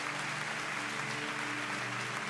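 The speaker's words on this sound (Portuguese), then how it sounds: "A igreja aplaude." A church congregation applauding in a steady, dense wash of clapping, moderately loud and continuous throughout, with a faint sustained musical tone underneath.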